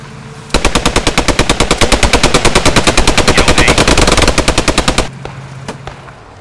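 Sustained machine gun fire in the Post Scriptum World War II shooter, a loud, rapid, steady burst of shots lasting several seconds before cutting off, with a faint ringing tail afterward.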